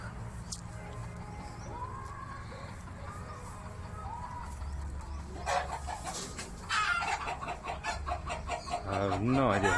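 Chickens at feeding time on a sheep farm cluck and squawk, faint at first and then growing loud and busy in the second half, with a person talking over part of it.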